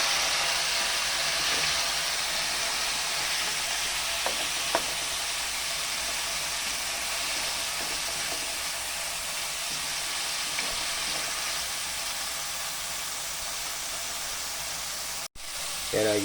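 Garlic, onion and tomato sautéing in a pan for a sardine and bitter melon dish give a steady, close sizzling hiss that runs unbroken almost to the end, then cuts off briefly.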